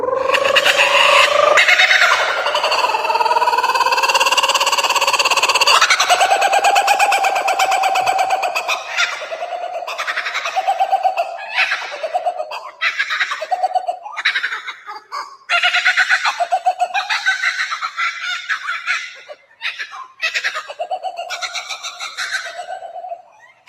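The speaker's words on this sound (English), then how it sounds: "È un kookaburra. E che verso fa il kookaburra?" Kookaburra call: a loud, sustained bird chorus with rising cackles, then a run of rhythmic laughing bursts.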